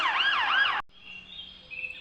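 A loud wailing siren sweeps up and down, cuts off abruptly, then a fainter steady tone lingers.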